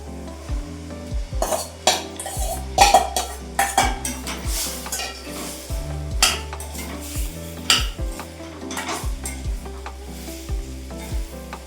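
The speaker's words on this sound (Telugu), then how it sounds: "ఇప్పుడు దోసకాయ ముక్కలు వేస్తున్నానండి. చూడండి, దోసకాయ ముక్కలు వేస్తాను." Cucumber pieces go into a simmering prawn curry in a pan, with a continuous sizzle under repeated clinks and scrapes of a metal spoon against the vessel, close and busy throughout.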